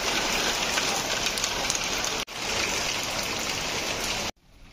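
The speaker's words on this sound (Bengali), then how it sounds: "দুপুর পর কিন্তু আবার ঠিকই বৃষ্টি নামছে," Afternoon rain falls under sunshine in a dense, even patter with no voices. It drops out for an instant, then returns before stopping abruptly.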